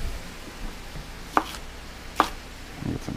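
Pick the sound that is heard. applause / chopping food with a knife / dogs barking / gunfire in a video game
chopping food with a knife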